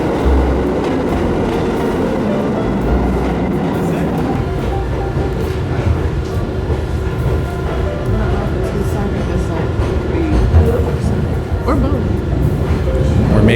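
A New York City subway train runs steadily with a loud, continuous rumble and rattle throughout, while people talk over it.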